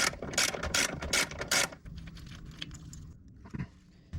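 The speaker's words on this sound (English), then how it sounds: "now we can remove that second 12mm bolt" A wrench works loose the second 12 mm timing belt tensioner bolt on a Hyundai Getz, making a quick run of sharp metallic clicks up close, then softer scattered ticks and knocks.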